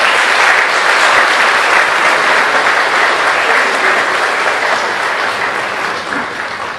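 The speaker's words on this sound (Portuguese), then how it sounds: "Vamos aplaudir a Petra" A church congregation claps loudly and steadily in a dense, sustained wash of applause that fades slightly toward the end.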